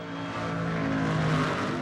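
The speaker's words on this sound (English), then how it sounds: "A car moving towards me sounds high-pitched." A car approaching, its engine tone sustained and fairly loud for about two seconds, with steady pitched hum above a broad road roar and no voices.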